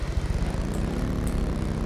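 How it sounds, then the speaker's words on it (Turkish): Rotor drone of an approaching helicopter in the battle royale game Ring of Elysium, a steady low throbbing hum that stays loud and constant throughout, with no talking. "Helikopteri göstermem lazım size"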